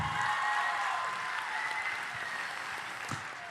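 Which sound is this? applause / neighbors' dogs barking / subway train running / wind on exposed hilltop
applause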